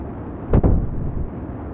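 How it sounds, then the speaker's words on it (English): A command module blowing up in Kerbal Space Program, heard as a short double boom with two close, punchy bursts that fade over a steady low rumble of background noise. "That explosion might have been our command module going up."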